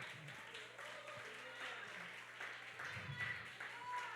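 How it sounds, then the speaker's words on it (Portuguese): A church congregation claps in praise to God, faint, distant-sounding applause blending with a low room hum and soft voices. "Vai aplaudindo a Ele"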